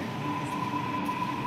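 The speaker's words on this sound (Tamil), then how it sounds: "இப்போ அடுத்து நம்ம சென்னை எக்மூர் போகிற ட்ரெயின் வந்துருச்சு கைஸ்." Chennai Metro train at a station on a ride toward Chennai Egmore, a steady hum and rumble with a faint tonal whine, continuous and even throughout.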